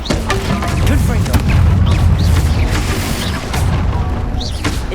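Explosive Confringo spell blasts in Hogwarts Legacy, several loud booming bursts and crashes in quick succession amid a busy combat din, with spell-casting voices in between.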